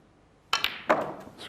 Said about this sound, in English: You see he's striking the white right down on the bottom.